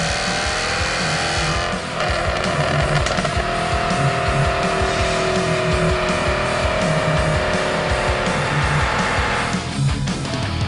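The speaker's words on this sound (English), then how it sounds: "Accelerating on the chamber's rolling road, the sounds made by the engine and exhaust are fine-tuned." A Jaguar F-Type sports car engine roars continuously at high revs on a rolling road, holding a steady loud drone with a brief dip near the start and a shift near the end.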